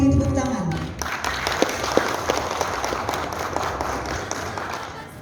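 An audience claps at the signing ceremony of a cooperation agreement between Indonesia's Prosecutorial Commission and Universitas Pasundan. A voice speaks briefly at the start, then steady, dense applause fills the rest of the clip at an even level.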